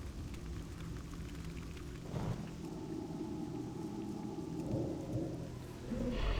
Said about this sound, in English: I like that it's raining here in Duskwood today.